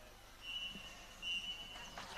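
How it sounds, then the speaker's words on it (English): A referee's whistle at a women's football match, part of the WFA Championship, sounds as a faint, distant steady tone in two short blasts over quiet crowd ambience. "final whistle has gone on the other pitch"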